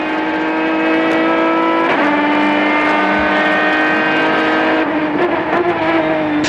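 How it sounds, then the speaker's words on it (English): Onboard engine sound from a race car in an American Le Mans Series race, loud and continuous, with the engine note rising through the gears and dropping sharply on upshifts and braking. "Here we are on board with Darren Turner"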